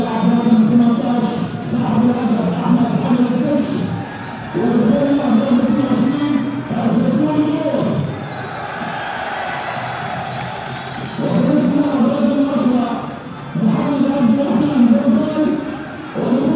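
A football stadium crowd at a Sudan versus Ghana match roars and applauds in repeated surging waves as goal scorers are substituted off, heard under continuous live commentary.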